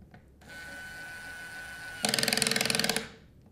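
A Bosch IXO cordless screwdriver with a torque attachment whirs steadily at high pitch, then its clutch slips into a loud, rapid ratcheting clatter for about a second before the motor stops.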